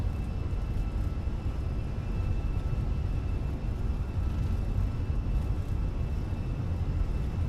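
Fenix A320 airliner simulator on its takeoff roll, engines at set thrust: a steady, loud broadband roar with deep rumble and a faint high whine, continuous and unchanging with no talk.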